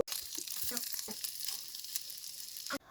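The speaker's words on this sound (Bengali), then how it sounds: "মাছটাকে আমি হালকা ভেজে নিব।" Hilsa fish pieces fry lightly in oil in a small pan, giving a close hissing sizzle broken by several short stirring or shifting knocks before stopping abruptly.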